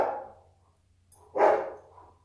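Two short barks from dogs, close and fairly loud, separated by a brief quiet pause with no talk.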